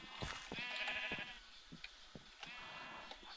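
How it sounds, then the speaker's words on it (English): Sheep in a video game bleat in several quavering calls, clear and fairly close, with short pauses and light game clicks between them; no speech. "I think I'm going to kill off some of these sheep."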